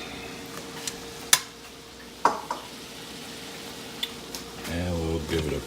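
A spoon stirs diced tomatoes into browning meat in a pot for crock pot chili, giving soft scraping and a few sharp knocks over a low sizzle, with a voice starting near the end.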